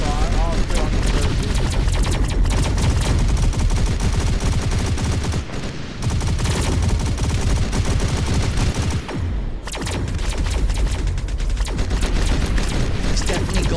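Mounted turret gunfire in the sci-fi shooter Interstellar Strike Team, loud and continuous rapid fire with brief pauses, mixed with game effects and a voice talking over it.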